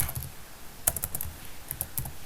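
Quick clusters of clicky keystrokes on a computer keyboard, close and crisp, arrive in short bursts with small gaps between them and no voices.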